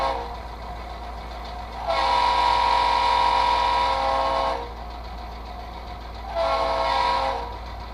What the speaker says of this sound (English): There's the quilled whistle.